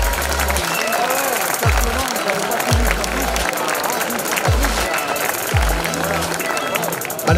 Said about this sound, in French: Et je vous propose de les applaudir très fort.